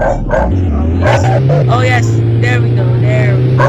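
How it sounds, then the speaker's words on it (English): A dog barks and yips a few times in the background, partly under someone talking and a steady low car engine hum from a driving video game. "And that's my dog barking."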